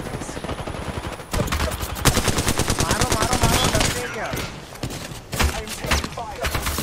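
Rapid gunfire in an Apex Legends match, dense bursts of automatic shots and overlapping fusillades that run almost without pause, loud and close, with brief dips between volleys.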